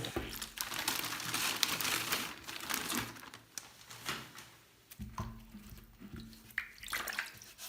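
Tap water runs into a basin with splashing and crinkling, fairly steady and close, with a few brief pauses and bumps from handling.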